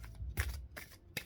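Tarot cards being shuffled by hand, very quiet and close, in three or four short, crisp riffling bursts separated by brief pauses.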